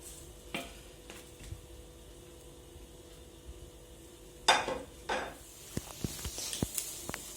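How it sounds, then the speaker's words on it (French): Paella rice and prawns cooking together in a pan, a faint steady simmer with a few soft stirring scrapes and light utensil knocks, growing busier with small clicks toward the end. "je vais laisser cuire comme ça ensemble jusqu'à ce que le riz soit cuit"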